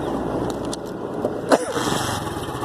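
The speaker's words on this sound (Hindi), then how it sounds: "अभी हम अपनी जो बाइक को स्टार्ट करते हैं।" A motorcycle engine runs on a cold morning with a close, steady rumbling drone, with a brief louder blip partway through.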